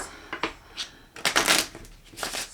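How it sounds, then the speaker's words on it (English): A deck of playing cards is shuffled in several quick riffling bursts, close and crisp, with short pauses between them and no talking. "So we're going to shuffle my deck. I'll put it in and shuffle again."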